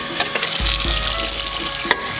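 Running water rinses canned garbanzo beans under a tap, a loud, continuous splashing hiss with a few sharper knocks and spatters.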